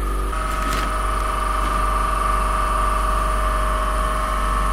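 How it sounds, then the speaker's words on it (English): A compressor running nearby gives off a steady, continuous mechanical hum with a constant low drone, unchanging and fairly loud, with no talk over it. "That sound you can hear is a compressor"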